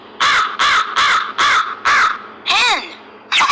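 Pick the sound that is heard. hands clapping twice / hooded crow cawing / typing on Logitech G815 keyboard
hooded crow cawing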